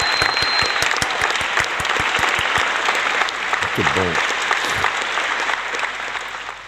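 A crowd claps loudly and continuously, dense and steady, while a voice speaks briefly over the applause before it starts to fade.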